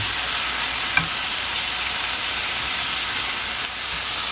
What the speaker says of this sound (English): Imagine frying some chicken with some THC oil